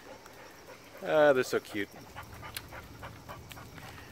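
Dogs whimper and pant nearby, with a brief burst of high whining followed by soft, rhythmic panting while a person speaks.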